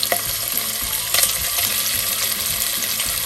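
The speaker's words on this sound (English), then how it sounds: "Throw that kielbasa in there. You hear the song of the skillet?" Kielbasa sizzles in a hot cast iron skillet with a bright, steady crackle and spitting fat up close, plus a few clinks of a utensil against the pan.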